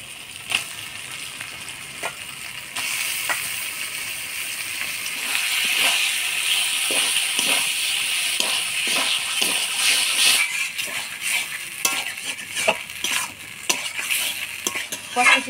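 Chicken gizzards sizzle with spice paste, turmeric and salt in a pan, a loud close hiss broken by a quick run of spoon scrapes and clinks against the metal.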